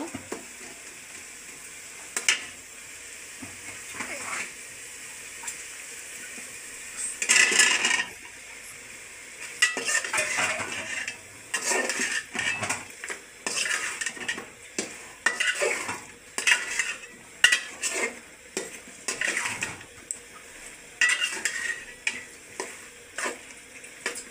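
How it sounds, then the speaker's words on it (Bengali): Potatoes tipped into fried spice paste in a pan for aloo dum, then stirred with a metal spoon, giving repeated scraping clinks and a soft sizzle, close and moderately loud. "এখানে আমার মশলাটা কষানো হয়ে গেছে, এখন আমি আলুটা ছেড়ে দেব"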